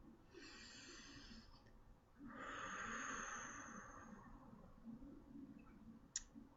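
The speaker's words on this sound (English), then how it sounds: "Deep breath." A single deep breath drawn in softly and slowly let out, close and quiet, followed by a small click near the end.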